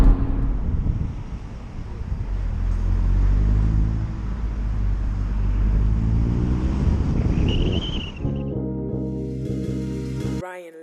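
A Vauxhall Astra VXR Nurburgring hatchback engine roars steadily as it accelerates, loud and close, with a gear change near the end before the revs settle into a higher whine.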